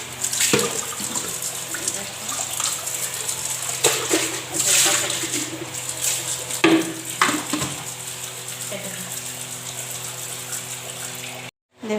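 Empty containers washed under a running kitchen tap, a continuous rush of water with intermittent clunks and splashes as they are handled, ending in a brief cutoff.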